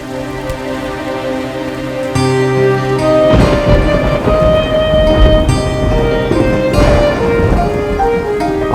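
Steady rain pours down through a stormy night, a dense hiss that swells louder partway through, with a low rumble of thunder mixed under soft background music.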